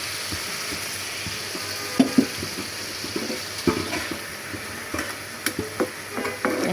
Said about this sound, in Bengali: আর একটু পানি দিয়ে ভুনা করে নেব।